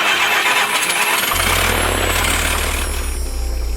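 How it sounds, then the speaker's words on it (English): An aircraft engine spinning its propeller starts partway through and settles into a loud, steady low drone over constant broadband roar, close and continuous. "when the engines are on, the propeller spins very fast"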